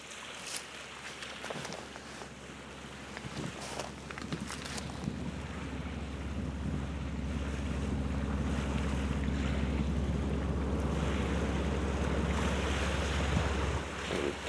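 Big old diesel ferry at sea, heard as a steady low engine drone beneath wind buffeting the microphone and rushing water, growing slightly louder and more constant over the second half.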